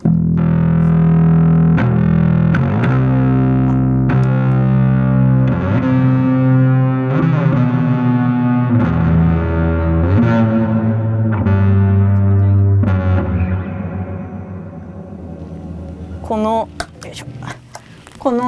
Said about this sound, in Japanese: この残響音がすごい良くて